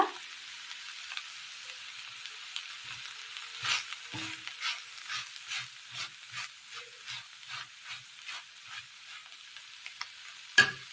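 Cauliflower and egg thoran with curry leaves added on top sizzles and crackles in a pan, a steady frying hiss broken by a run of soft stirring scrapes and one sharper clatter near the end, with no voices.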